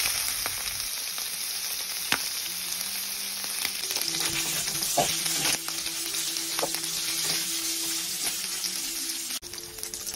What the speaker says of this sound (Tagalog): Ngayon, igigisa muna natin yung karne. Kailangan mag-brown na ito at mamantika.